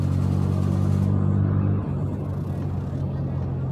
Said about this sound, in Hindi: इस बाइक की आवाज़ सुन के ना मज़ा आ जाता है